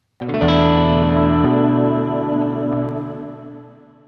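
A sustained electric guitar chord through echo and compressor pedals rings out with a soft echo trail, compressed and steady before slowly fading away.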